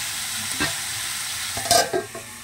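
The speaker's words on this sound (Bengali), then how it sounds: "একটু জাস্ট নুন আর হলুদ দিয়ে অল্প তেল দিয়ে ডিম চালুটা আগে একটু ভেজে নেবো" Egg and rice being fried in a little oil with salt and turmeric, steady close sizzle with a few stirring scrapes and light clinks, no talking.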